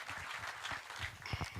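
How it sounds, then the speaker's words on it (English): An audience at a men's wellness summit gives a speaker a short round of applause, a dense, moderately loud patter of clapping with no talk over it. "Let's appreciate him with a warm round of applause"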